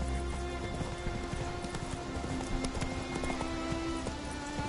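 Geralt's horse Roach gallops in The Witcher 3, with rapid rhythmic hoofbeats over a dense, steady game soundscape throughout.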